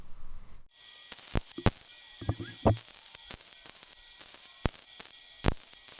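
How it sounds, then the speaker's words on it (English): Grade 8 bolt heads are welded onto weld-on shackles for a fabricated bumper, with sharp, sparse crackles and pops close by over a faint background hiss. "I cut the heads off those grade 8 bolts and I'm going to weld them to those weld-on shackles."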